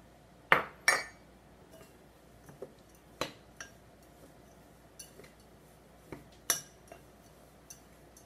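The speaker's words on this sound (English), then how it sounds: "it takes a bit of stirring to get everything to mix together really nicely after you put in the peanut butter" A spoon stirs a sticky peanut butter energy bite mixture in a bowl, giving scattered sharp clinks and taps against the bowl over a quiet background.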